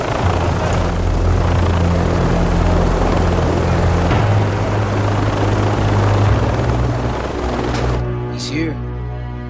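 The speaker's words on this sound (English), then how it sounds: "Just getting out of the helicopter." A helicopter's loud, steady rotor thumping and engine drone fill the air up close, with voices talking underneath before the noise drops away.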